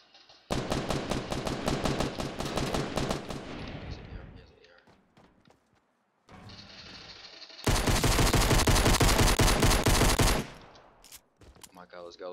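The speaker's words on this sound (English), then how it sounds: "Blue pistol is our gun for the whole game." Blue pistol fire in a Fortnite battle royale match: rapid bursts of loud gunshots, a long volley, a pause with scattered shots, then another dense burst, with a brief voice near the end.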